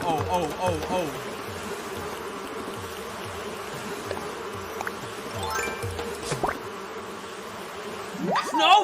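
Cartoonish buzzing of a swarm of bees chasing the player in a video game, a steady drone running through the whole stretch beneath game music and effects, with a brief swell near the end.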